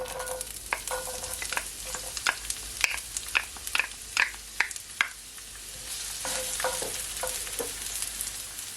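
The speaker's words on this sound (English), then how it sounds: "So my oil is all heated up, so now I'm gonna add my onions," Onions tipped into hot olive oil in a pot, with a run of sharp, crackling pops and spatters that settle into a steady, close sizzle, alone without talk.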